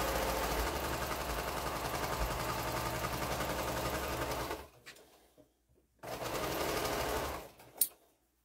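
A sewing machine runs steadily while stitching quilt seams for a sewalong row, a long continuous whir that stops, goes quiet for about a second, then starts again for a shorter burst ending in a sharp click.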